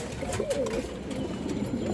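A pair of Lal Chulli pigeons from an old bloodline coo softly in low, rolling calls against steady background noise, with little else audible.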